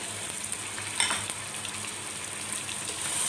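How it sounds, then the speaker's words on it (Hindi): Tomato paste sizzling in hot oil with frying bitter gourd and potato for karela aloo, a steady close hiss with a brief stir clink near the start and no talking. "अब इसमें टमाटर का पेस्ट डाल देंगे।"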